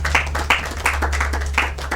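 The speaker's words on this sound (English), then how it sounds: "Let's clap for her." An audience claps for a third-place Bake Off winner at a Children's Day special event, steady overlapping hand claps filling two seconds over a low electrical hum.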